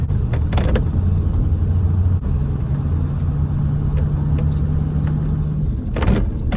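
An OBS Ford F250 with a 7.3 diesel drives along, a loud steady low engine rumble and road noise with a brief sharp rattle near the end.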